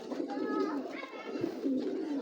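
Pigeons coo softly in a steady, overlapping murmur, a close, continuous low warble among a small home-kept flock.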